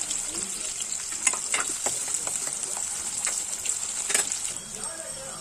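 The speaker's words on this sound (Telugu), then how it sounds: "ఇప్పుడు తాలింపు కోసం ప్యాన్ పెట్టి నూనె వేయాలి అందులో ఉల్లిపాయ ముక్కలు" Onions sizzle steadily in oil in a pan, a bright crackling hiss broken by a few scraping stirs.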